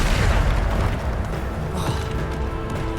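Bombarda spell explosion in Hogwarts Legacy, a continuous heavy rumbling boom with crackling debris and mechanical clatter, loud and close, filling the whole stretch without pause.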